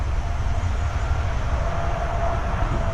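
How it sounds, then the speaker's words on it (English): An air conditioner heat pump compressor kicks on: a steady, loud mechanical rumble with a constant low drone nearby, with no talking. "you will see the AC kick on, and you'll hear the compressor"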